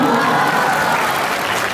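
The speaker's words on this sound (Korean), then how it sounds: "박수!" A crowd of students at a Korean high school freshman welcome and appointment ceremony claps steadily, a dense, loud wash of applause filling the hall for a short burst.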